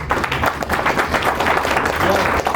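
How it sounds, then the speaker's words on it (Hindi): An audience at a Hindi network marketing talk claps in a dense, continuous patter of hands, with some voices mixed into the applause throughout. "ताली बजाते नहीं बजाते लोग?"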